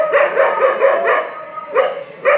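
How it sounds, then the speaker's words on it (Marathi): A dog barks in a steady series of short, fairly loud barks, repeated about every third of a second, pausing briefly before starting again, heard outdoors along the Palkhi pilgrimage route. "कुत्रा भुंका लागला मला बघून"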